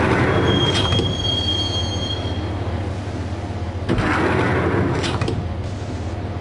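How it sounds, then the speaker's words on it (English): A subway train in the Max Payne video game runs on with a steady loud rumble, and sharp metallic wheel squeals cut through it in several bursts. "but the train doors had already shut behind me, and I was in for the ride"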